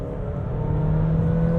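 A heavy Bestune T99 SUV, about 2,225 kg, pulls away in sport mode, its engine note rising smoothly as it accelerates, steady and fairly close, heard on its own without voices.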